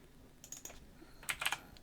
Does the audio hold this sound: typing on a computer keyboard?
yes